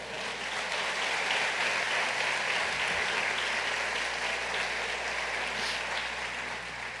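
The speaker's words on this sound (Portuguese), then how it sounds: "A igreja pode aplaudir o Senhor." A church congregation applauds during an evening worship service, a steady, dense wash of clapping that fills the room for the full length without letup.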